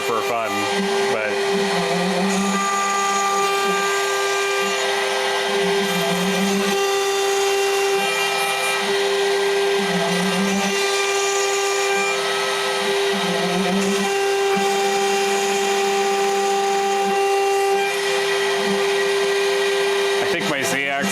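A CNC machine runs with its Z-axis lead screw off kilter, a steady mechanical whine with a rhythmic warbling pulse that repeats every couple of seconds, loud and continuous throughout.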